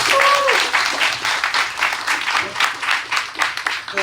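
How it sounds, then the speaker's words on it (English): Audience applause after a speaker at a political organizing talk, a dense wash of many hands clapping that stays loud and steady for the whole stretch, with some voices mixed in. "Give him a round of applause."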